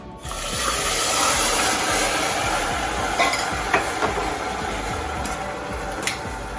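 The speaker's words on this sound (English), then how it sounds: "we're just going to hit this right in the sugar. It's going to start to bubble." Blueberries in vinegar hit hot sugar in a pan and bubble and sizzle loudly and steadily up close, with a few brief clinks and stirring sounds over the hiss.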